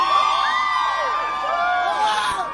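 Men in the crowd at a live comedy show erupt in loud cheers and whoops, several voices yelling at once in a sustained burst.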